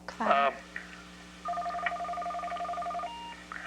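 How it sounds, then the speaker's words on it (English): Telephone keypad tones sound as a phone is switched off, a brief voice first, then a sustained two-tone beep and a shorter higher tone, faint and close. "I got to turn the phone off here."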